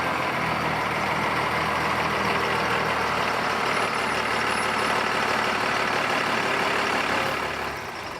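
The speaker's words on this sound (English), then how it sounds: "this is a typical London bus." A London double-decker bus engine rumbling loud and steady up close with a broad hiss, fading slightly at the end, no voices.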